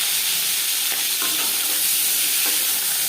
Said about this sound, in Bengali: তিন চামচ সর্ষার তেল গরম করে নিয়েছি এবার দিয়ে দেব মাছ